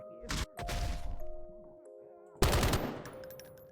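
Loud gunfire from a gun in the Eden Lost game, two sharp bursts: a short one near the start and a harder crack at about two and a half seconds with a ringing tail, over steady tonal game hum.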